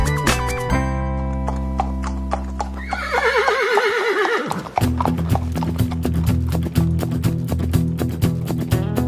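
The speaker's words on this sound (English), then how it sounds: "I have the perfect song for you. It's the horse song." A horse whinnies in a long, shaky neigh over music in a kids' horse song, followed by steady rhythmic clip-clopping hooves set against a bouncy instrumental backing.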